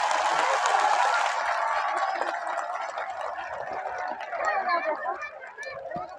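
Crowd at a BSP political rally in Shravasti applauding to welcome Mayawati, a dense continuous wash of clapping and crowd noise that swells again toward the end, with a voice talking over it.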